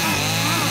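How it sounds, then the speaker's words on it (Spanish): A chainsaw motor revving loud and close in a short burst, its rough buzzing drone filling the moment in a film trailer scene. "Con la motosierra."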